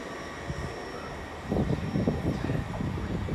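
A Great Western Railway train pulls out of Bristol Parkway station on a Swansea service, its low engine rumble and wheel noise building mid-clip over steady outdoor background hiss.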